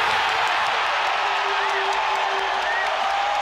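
Basketball arena crowd roaring steadily after a hook shot in a Cavaliers–Nuggets game, a loud, even wash of cheering voices that holds throughout.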